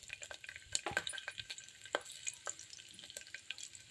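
Mustard seeds, cumin and garlic fry in hot oil for a Telugu gongura pulusu, giving soft crackles, small pops and scraping stir sounds that come in irregular bursts and stay fairly quiet, with no voices.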